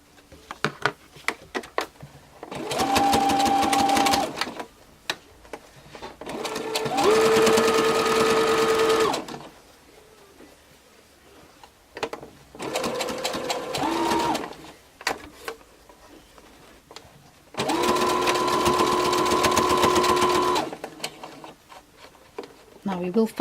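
A sewing machine stitches a fabric flower brooch in four loud, close bursts of steady whirring, separated by quiet pauses filled with light handling clicks and the occasional voice.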